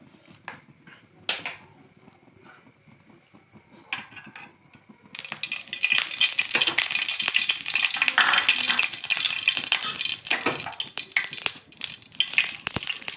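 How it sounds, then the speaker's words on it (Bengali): Eggs fry in hot oil in a pan while being stirred, for a Bengali dhaba-style egg tadka. After a few quiet seconds of faint clinks, a loud, dense sizzle starts and continues steadily at close range with stirring scrapes. "দুটো ডিম দিয়ে দিচ্ছি আমি, নাড়তে থাকবো একটু"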